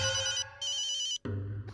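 A phone ringtone trills in two bursts split by a short gap, then cuts off as a low hum and a clatter follow; the ring is clear and fairly close.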